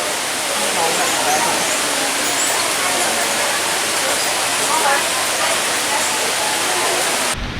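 Heavy rain pours steadily at an amusement park, a dense, loud, continuous hiss of water on surfaces heard from under shelter, unbroken for several seconds before cutting off abruptly at the end.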